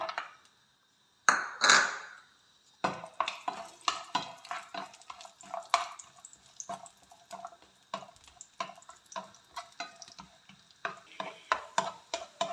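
Cashews frying in ghee in a pan for carrot halwa, with a steady close sizzle and repeated scraping stirs, plus sharp clinks of a spoon against the pan.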